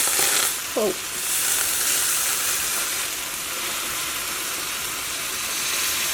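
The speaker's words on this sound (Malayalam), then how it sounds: "അപ്പോൾ ഇതിലേക്ക് നമുക്ക് നല്ല തിളച്ച വെള്ളം ചേർക്കാം." Boiling water poured into a pan of green gram curry sets off a loud, continuous sizzling hiss, briefly sharper at the start and then settling into an even bubbling roar.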